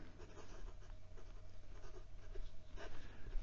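A Leonardo Furore Grande fountain pen nib writes on paper with light pressure, giving a soft, continuous scratchy glide up close over a low background hum, without talk.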